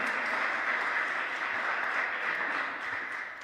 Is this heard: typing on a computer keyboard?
no